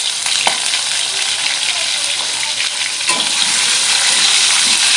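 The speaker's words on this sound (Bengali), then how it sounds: "আলুগুলো ভেজে নেব।" Potato pieces frying in mustard oil with a pinch of turmeric give a loud, steady sizzle throughout, with a few soft stirring knocks and the hiss swelling slightly near the end.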